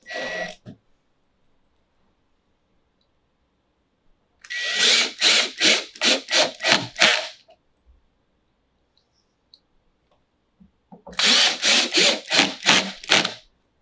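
A power drill drives screws while a reptile rack is assembled, in two bursts of several short, loud whirring pulses separated by silence, with no voices.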